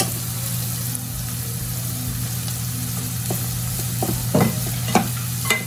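Vegetables for egg fried rice stir-fry in a hot pan, a constant loud sizzle with a low steady hum underneath and a few quick scrapes and clacks of a spatula near the end.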